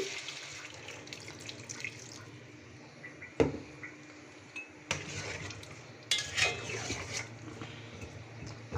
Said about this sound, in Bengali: সামান্য পানি দিয়ে দিচ্ছি